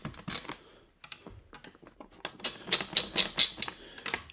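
Screws tightened around a Ryzen 3 3100 CPU on an ASRock A520M ITX motherboard, heard as rapid close, light clicking and tapping in irregular bursts, with small metallic ticks.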